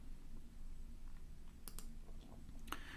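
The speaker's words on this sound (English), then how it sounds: "And now we click Translate." A single sharp mouse click on a software Translate button, heard as a brief distinct tick near the end of a quiet stretch, with a couple of fainter clicks before it.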